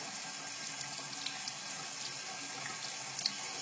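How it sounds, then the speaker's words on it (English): A tap runs steadily into a sink for lukewarm water used in brush cleaning, a constant close hiss and splash with a few small drip-like peaks on top, no talking. "So I'm going to let the water run for a minute so I can feel it."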